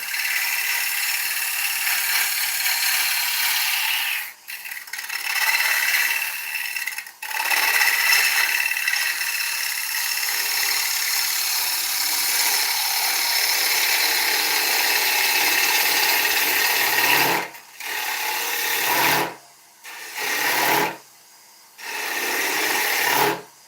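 Steady broadband scraping of a lathe gouge making push cuts in dieback ash while turning a tenon, loud and continuous, broken by a few short pauses as the tool lifts off, with no talking.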